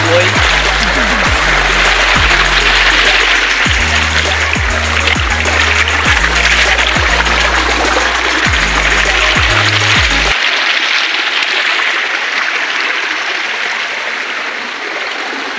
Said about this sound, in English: you may see the stream water, how it is flowing